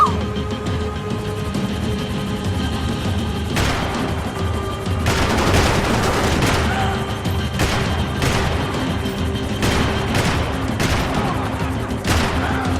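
Gunfire in Max Payne 3, loud bursts of rapid shots and sharp cracks repeating in clusters over a constant droning background.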